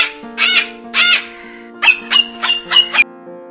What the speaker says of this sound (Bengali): ক কয়ে কাকাতুয়া।